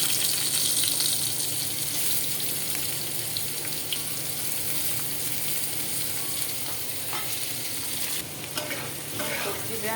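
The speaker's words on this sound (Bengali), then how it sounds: "আমি এখন সবজিগুলিকে একটু ভেজে নেব।" Vegetables fry in a pan after fish, making a loud, continuous sizzle with stirring scrapes throughout and no voices.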